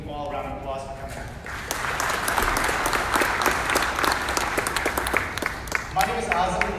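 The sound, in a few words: audience applause at a candidates forum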